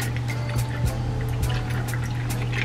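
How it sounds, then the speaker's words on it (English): Cocktail mix poured into a glass, a steady soft liquid pour with faint splashing over a constant low hum, close and continuous without talk. "we're gonna go ahead and pour our mix in"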